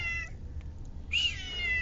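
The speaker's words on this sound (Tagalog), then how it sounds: "Pusa." A cat meows at a fishing spot in a two-part call, one brief cry followed by a longer, louder meow, close by over a low background rumble with no one speaking.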